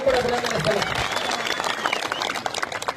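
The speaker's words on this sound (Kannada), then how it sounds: "ಜೋರಾದ ಚಪ್ಪಾಳೆ ಮೂಲಕ ಅವರಿಗೂ ಕೂಡ ಅಭಿನಂದನೆ" Loud applause rises from a crowd of sugarcane farmers at a protest rally, dense clapping that starts strong and continues through, with a voice speaking over it.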